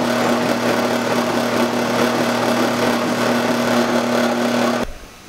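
Steady power drill whine with a constant tone runs loud and close for about five seconds, then cuts off abruptly, as a 5/8-inch bit is driven down through a car's spindle while fitting a UMI race bump steer kit.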